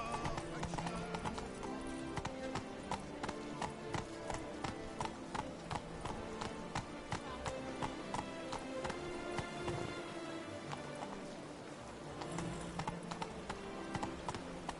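Hooves of the horse Roach from the video game The Witcher 3 pound in a fast, continuous galloping rhythm, crisp and close throughout, with a slight lull near the end before the beat resumes.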